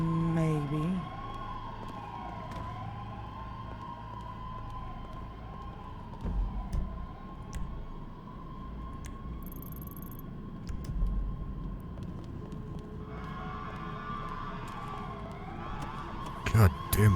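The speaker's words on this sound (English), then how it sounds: "God damn, those sirens are loud." Police sirens in a roleplay video game, wailing steadily in the distance under a low rumble, with brief knocks and a rise in siren layers near the end.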